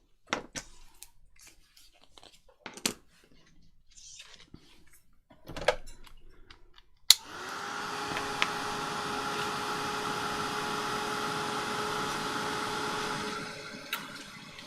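A heat gun blows hot air over embossing powder on a junk journal page, a steady loud whoosh with a faint whine that starts abruptly after scattered soft crafting clicks and handling noises, runs for several seconds, then cuts off.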